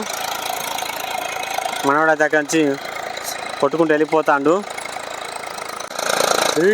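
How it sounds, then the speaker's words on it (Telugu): Eicher tractor engine knocking while driving with a cultivator, a continuous rough chugging drone that runs throughout and stays audible under two stretches of someone talking nearby. "ఈ బండి ఎక్కడ నడిచినా కానీ మనం గుర్తుపట్టవచ్చు కంపల్సరీ ఇది ఐచర్ ట్రాక్టరే అని"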